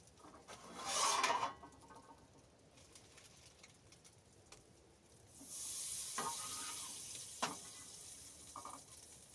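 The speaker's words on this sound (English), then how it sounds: "That's a good sizzle." Food sizzles in a pan inside a tarp tent in below-zero weather, a short hissing burst first, then a louder, sustained sizzle with a few crackles.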